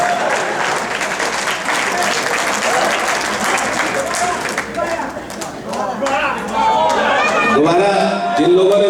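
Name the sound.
audience applause at Hindi poetry gathering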